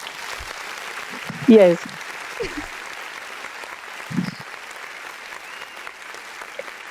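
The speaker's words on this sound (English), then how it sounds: "I'm clapping for you." Steady, light clapping by one person continues in the background throughout, with a short spoken word and a few faint voice sounds over it.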